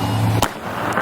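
A single sharp firework bang from New Year's fireworks set off near a gas station, a brief loud burst over steady outdoor noise, with a fainter crackle shortly after.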